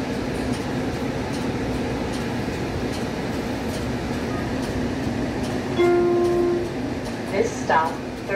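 Light rail on the HBLR Bayonne Flyer express service rumbles steadily from inside the car, with a constant low roar, a brief tonal whine, and faint squeals toward the end.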